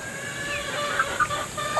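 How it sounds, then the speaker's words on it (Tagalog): Soft clucking from a few chickens, brief faint calls over a low outdoor background. "Ito pa yung mga manok ko"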